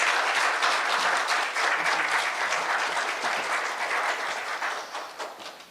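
An audience claps steadily for a professor's lecture at a Korea University health forum, dense continuous applause that gradually tapers off, with no talking.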